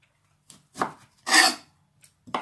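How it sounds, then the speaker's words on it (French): A kitchen knife slices through lined-up courgettes on a board, making a few separate, close, crisp chopping strokes with short pauses between them. "je prends mon couteau, hop, je les aligne et je coupe tout"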